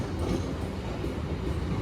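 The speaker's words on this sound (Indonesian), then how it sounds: "Dan ini yang di jalur 3 adalah rangkaian kereta api Bogowonto yang baru saja tiba dari Jogja" A train rumbles steadily at a railway station on platform track 3, a continuous low roar of passing carriages with faint rhythmic clatter and no talk.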